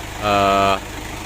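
Car engine running at idle during radiator and water pump repair, a steady mid-pitched hum lasting about half a second at close range, with no talk over it.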